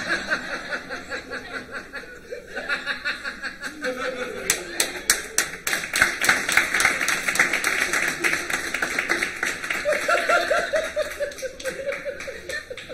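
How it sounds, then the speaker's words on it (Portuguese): Audience applause on a comedy news show, a sustained clatter of many hands with sharp individual claps standing out midway, mixed with scattered chuckles and a voice briefly heard underneath. "Aplausos."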